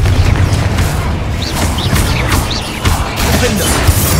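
A Confringo fire spell blasts in Hogwarts Legacy, a dense, booming explosion with crashing impacts over a sustained rumble, loud and close, with brief voice-like flourishes mixed into the clamor.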